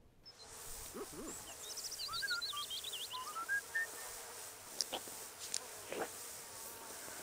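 Steady insect buzz from bees in The Sims 4 life-sim game, a continuous droning hum with bird-like chirps and whistles weaving above it and a few brief sharp clicks.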